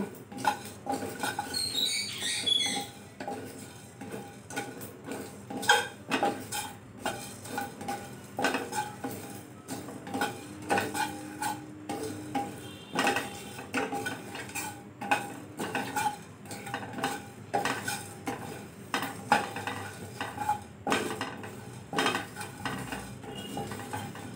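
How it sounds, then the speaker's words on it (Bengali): Whole cumin, coriander seeds and black peppercorns are dry-roasted in a pan, with repeated scraping and stirring clatter of a spoon against metal and a soft rattle of seeds, fairly close and free of talk. "গোটা জিরে, গোটা ধনে 1 চামচ আর কটা গোটা গোলমরিচ। এইটুকু একটুখানি ভেজে নেব।"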